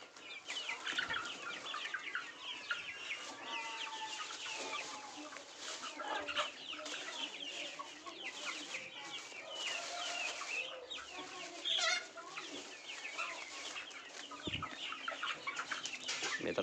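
Gavran country chicks, a flock of around fifty, cheep and cluck continuously in a dense, high chorus heard close but faint.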